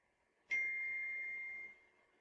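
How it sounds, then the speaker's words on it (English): A single soft chime from a phone notification rings out once and sustains for about a second before fading, faint and alone with no talk over it. "That's my phone."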